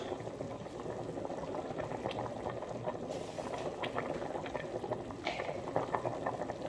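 Water for brown rice bubbling at a rolling boil in a pot, a dense, steady burbling with small pops, close by and continuous.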